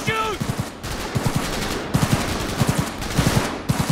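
Video game gunfire in Cyberpunk 2077 during a street fight, several short rapid bursts of automatic shots in a stuttering rhythm, loud and close over a dense background of game action noise.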